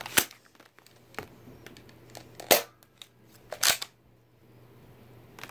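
A Nerf gun firing a paper money bill gives a few sharp, isolated mechanical snaps and clicks, two of them louder, separated by quiet handling noise and a low steady hum.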